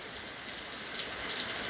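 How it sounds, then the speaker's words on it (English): Steady rain falls during a severe thunderstorm at night, a dense, even hiss of drops that holds constant and fairly loud throughout, with no voices. "The rain is starting to pick up a little bit"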